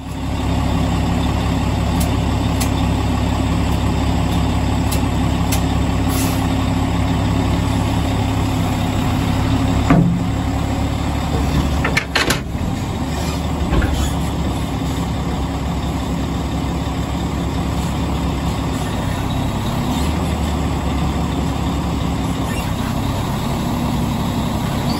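A truck tractor idles and backs up to couple automatically with a trailer, a steady low engine rumble running throughout with a brief clunk and rattle near the middle.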